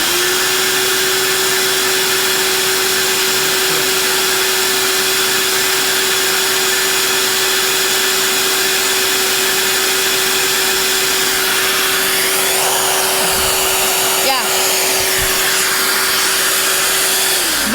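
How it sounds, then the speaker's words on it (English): A homemade bee vacuum hums steadily at close range with a constant motor drone, then winds down and cuts off near the end, leaving brief rustling. "I turned off the vacuum while they were still being sucked up."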